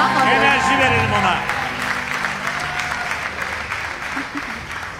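A studio audience on the Turkish game show Çarkıfelek breaks into loud applause that gradually fades, with voices and cheers mixed in at the start.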